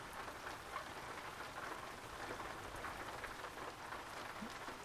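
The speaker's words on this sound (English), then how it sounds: "Oh, listen to that rain." Steady rain in the American Truck Simulator driving game, an even hiss of drops on surfaces that holds at a constant, moderate level throughout.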